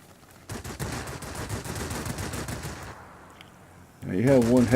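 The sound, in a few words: Yak-3 aircraft guns firing, World of Warplanes video game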